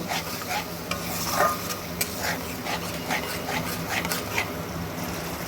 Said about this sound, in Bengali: মশলাটা আর একটুখানি জল দিয়ে একটু ভালো করে কষিয়ে নেব